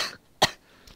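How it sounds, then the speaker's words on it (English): A single short, sharp cough close to the microphone, briefly breaking otherwise quiet surroundings during a Minecraft Hunger Games match, with a fainter sound just after. "I cough."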